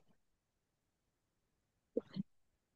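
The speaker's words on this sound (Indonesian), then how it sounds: "Maaf, aku lagi batuk." A single short, muffled cough bursts out near the end after near silence, close and fairly soft.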